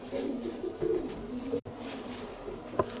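Pigeons at a loft in Larissa coo softly and repeatedly in low, rolling calls nearby, with a brief sharper sound near the end and no talking.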